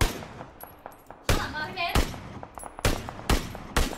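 Rapid bursts of video-game gunfire, sharp loud shots spaced irregularly with a short rattling sequence, under a low steady background with faint voice-like murmur.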